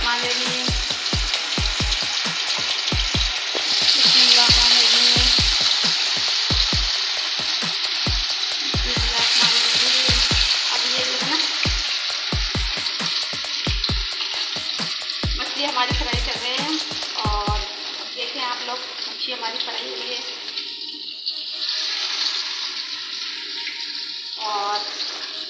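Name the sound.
fish frying in a pan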